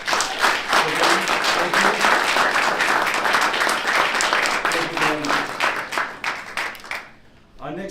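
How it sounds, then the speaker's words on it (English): A loud, steady round of audience clapping at a congressional observance of the Armenian Genocide, honouring members of Congress. It carries on for about seven seconds, then tapers off while a speaker briefly talks over it. "I would like a round of applause for them."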